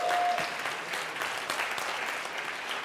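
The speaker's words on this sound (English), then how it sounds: "give them a round of applause" An audience at a personal growth talk bursts into applause, a dense continuous wash of many hands clapping, steady and moderately loud throughout.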